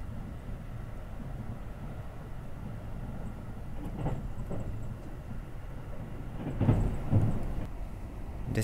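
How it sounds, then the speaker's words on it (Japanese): A Haruka limited express train runs through Ibaraki station, heard from inside as a steady low rumble with a few dull thumps and rattles rising briefly near the end, no talking. "列車はただいま茨城駅を通過しています"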